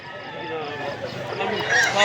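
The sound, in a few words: roosters crowing and clucking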